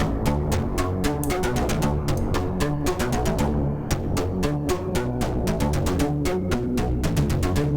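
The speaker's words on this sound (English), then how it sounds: "It's a very like synthetic sounding reverb." Synthesizer notes ring out in steady rhythmic pulses, bathed in a lush, artificial-sounding digital reverb from a Chase Bliss Lossy pedal that smears each tone into a continuous wash.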